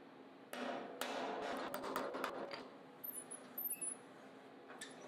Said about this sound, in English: Even with the rubber bumper in place, which is up out of sight in this shot, the back of the carriage still hits the column first.